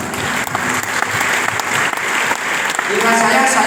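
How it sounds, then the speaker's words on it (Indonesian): A large audience at an Islamic religious gathering bursts into loud, dense applause that continues steadily throughout, with crowd noise mixed into the clapping. "Tepuk tangan untuk Al-Amin."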